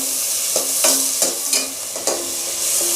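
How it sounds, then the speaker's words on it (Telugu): Tomatoes and chili powder fry in a pan with a bright, constant sizzle, while a spoon stirs and taps the pan several times, up close and without talk. "ఈ కారము టమోటాలు అన్నీ బాగా ఫ్రై అవ్వాలి"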